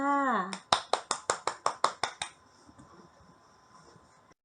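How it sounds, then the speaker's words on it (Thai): A teacher claps her hands about ten times in a quick, even rhythm right after a short spoken phrase, each clap sharp and close, followed by quiet room tone. "คุณครูปรบมือให้เลยค่ะ"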